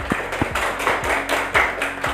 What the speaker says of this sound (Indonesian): Tepuk tangan semua dulu.